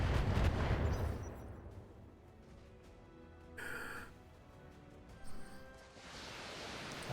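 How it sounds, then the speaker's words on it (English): Incoming rocket fire in the BattleTech mech game: a loud rumbling barrage opens, then the mix drops to a low hum with a brief whooshing swell and a short burst later on, each standing alone. "Got some rockets coming back the other way."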